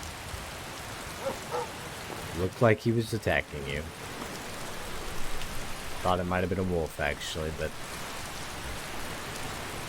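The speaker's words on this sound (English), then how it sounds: "And it's raining hard." Heavy rain in the video game Skyrim, a steady broadband hiss running throughout at even loudness, with a voice talking over it in two stretches.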